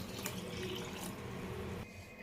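Water pours steadily into a pot of mashed tamarind for about two seconds, a continuous rushing splash that stops abruptly.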